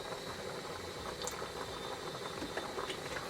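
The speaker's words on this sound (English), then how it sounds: "The pasta is boiling for 5 minutes." Gemelli pasta boils in a pot of water on a stovetop, giving a steady, dense bubbling and rolling hiss that stays constant throughout with no voices.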